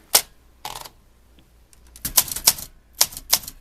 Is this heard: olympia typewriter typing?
yes